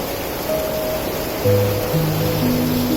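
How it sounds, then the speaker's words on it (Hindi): A small spring-fed waterfall near Keylong pours out from inside a mountain, a loud, close, continuous rush of water with a few faint tonal sounds over it. "इसका स्रोत ये छोटा सा झरना, कहीं ऊपर से नहीं आ रहा, पहाड़ के अंदर से ही पानी आ रहा है"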